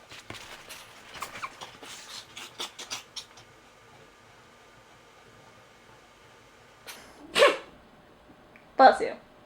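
Two sharp, loud sneezes burst out in a sewing workspace near the end, following a stretch of quieter chatter and rustling at the start.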